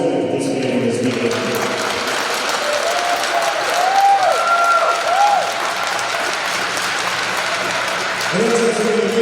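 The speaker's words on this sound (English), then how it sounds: "Let's give a hand for all the players who have participated in this weekend." A crowd at a Canadian sledge hockey tournament applauds the players in an arena, with sustained clapping through most of the stretch and a few electronic tones and faint background sounds mixed in.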